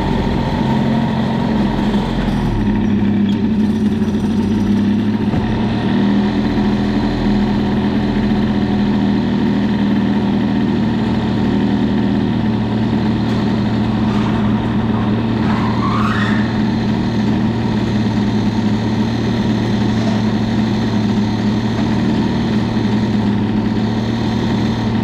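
A Gilardoni-cylinder Booster 50 scooter engine with a BOOST cylinder head idles steadily while warming up, a continuous close buzzing drone with slight shifts in pitch and no talk.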